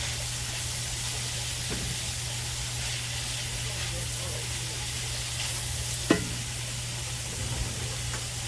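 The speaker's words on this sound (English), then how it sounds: "we want to make sure we get all that seasoning stirred into our ground beef" Seasoned ground beef frying in a pan, a steady hissing sizzle over a low hum, with an occasional sharp knock of a utensil against the pan.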